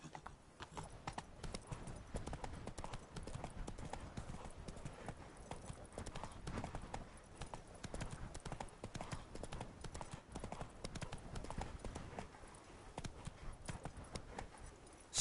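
Horse hooves clip-clopping at a steady trot in a video game, with the rhythmic beats continuous and close throughout, over a dense game soundscape, with occasional faint speech.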